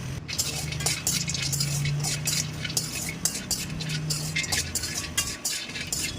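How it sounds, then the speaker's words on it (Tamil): Two hundred grams of almonds dry-roasting in a pan, stirred steadily so the nuts scrape and clink against the metal in a continuous, busy rustle with no talking. "இரநூறு கிராம் பாதாம் எடுத்து நல்லா வறுத்து எடுத்து வச்சுக்கிறேன்"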